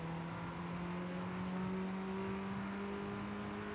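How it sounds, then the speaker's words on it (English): A hot hatch engine revving in the racing video game Forza Horizon 5, a sustained, steady drone with a slowly rising pitch that holds for several seconds with no talk over it. "I love how it revs further than the rev meter actually can display."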